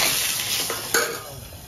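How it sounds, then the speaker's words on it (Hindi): Hot oil sizzles steadily with a hissing crackle as cumin and asafoetida are tempered for raita, followed by a brief clatter of stirring near the end. "जीरा और हींग से छौंकूंगी रायता।"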